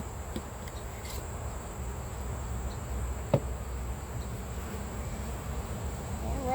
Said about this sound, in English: Have some bees hanging out on it